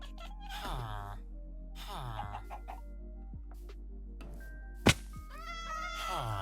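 Cats meow in the Minecraft video game, with several rising and falling meows spaced through the clip and a sharp thunk partway, over a steady low hum.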